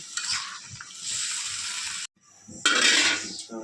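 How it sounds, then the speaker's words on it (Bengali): Hilsa fish and Malabar spinach curry is stirred in a pan with a spatula, a loud, close scraping sizzle that drops out briefly and then resumes, with no voices. "ভালো করে নাড়াচাড়া করে নিতেছে মা"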